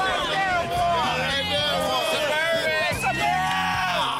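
A crowd at a car burnout contest cheers, whoops and yells loudly and continuously to pick a winner, with dense overlapping shouts and hubbub filling the whole stretch.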